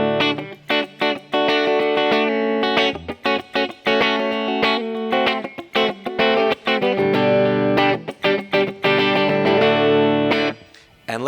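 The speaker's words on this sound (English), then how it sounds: "This is my clean tone." Electric guitar played through a clean amp tone, a run of plucked single notes and chords with a steady, fairly loud ring and short gaps between phrases, no one speaking over it.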